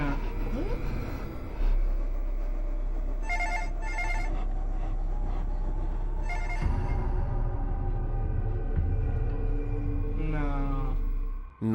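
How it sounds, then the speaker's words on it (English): A telephone rings in Backrooms found footage: several short bursts of shrill electronic ringing spaced a few seconds apart over a low constant hum, with a warbling tone near the end. "The phone begins ringing again"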